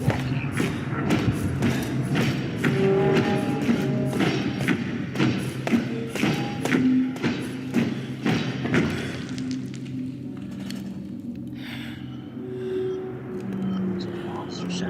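Walking footsteps from a Minecraft music disc in the video game, a run of dull thuds in steady rhythm mixed with eerie tonal music, fairly loud for the first nine seconds and then thinning into sparser, quieter sounds.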